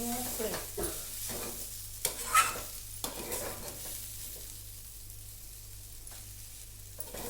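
Fried sev is stirred in a pan, with a soft continuous sizzle under several scraping strokes of a spoon against the metal. The stirring is close and moderately quiet, easing off toward the end while the frying hiss carries on.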